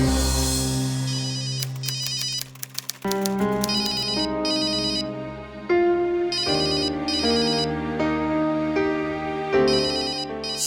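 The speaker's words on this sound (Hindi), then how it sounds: "श्रुति, फोन बज रहा है तुम्हारा।" A mobile phone plays a melodic electronic ringtone, a looping tune of bright chiming notes that repeats clearly and loudly for several seconds, with no talking over it.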